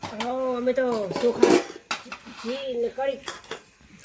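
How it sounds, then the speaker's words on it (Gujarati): Dishes, pots and utensils clatter and clink as they are handled for washing, short metallic knocks close by while a person talks throughout. "તો ગાઈસ મમ્મી જાય છે વાસણ ધોવા માટે"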